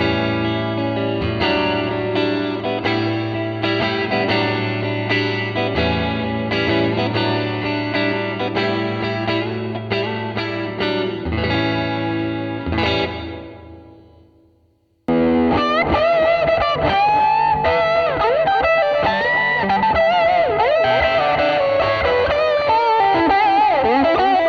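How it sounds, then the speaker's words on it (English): Distorted electric guitar played through a TC Electronic Hall Of Fame reverb pedal at extreme settings, chords ringing into a long, washy decay that fades out before a second, swirling passage starts. "I added a little bit more reverb, a little bit more effects level, and a little bit more decay"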